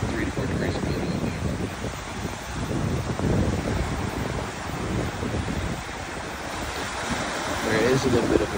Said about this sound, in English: There is a little bit of a breeze